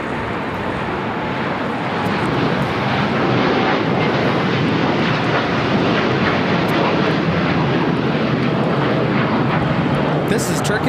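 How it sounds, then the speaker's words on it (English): Turkish Airlines Boeing 787-9 Dreamliner taking off from LAX, a loud, steady, broadband jet engine roar that holds strong and close throughout with no letup. "flight 180, taking off to Istanbul on a 787-9 Dreamliner"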